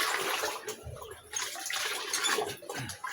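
Water for a pigeons' vitamin drink is stirred and sloshed in a container, a continuous close splashing and swirling with small gurgles.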